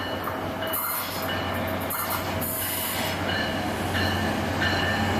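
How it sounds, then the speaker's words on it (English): A passenger train led by MP36PH3C locomotive number 15, pulling Bombardier multi-level cars north toward Ogden in Salt Lake City, rumbles steadily past close by, with rail noise, brief wheel squeals and faint tonal hums and no talking. "this train is heading north to Ogden"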